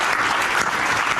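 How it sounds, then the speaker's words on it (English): A crowd applauds in a dense, even wash of clapping, loud and close, lasting about a second. "let's just give all our speakers a huge round of applause"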